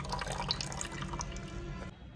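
Millets being rinsed by hand under running water in a bowl, a steady close wash of flowing and splashing liquid with no voices.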